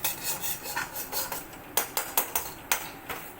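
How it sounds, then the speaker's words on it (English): A spoon scrapes and stirs chili flakes and mixed herbs in oil in a pan, rhythmic rasping strokes at a steady pace, then sharper clicking scrapes, close and fairly clear with no talking. "So here I've added my chili flakes and mixed herbs and just stir it for a minute."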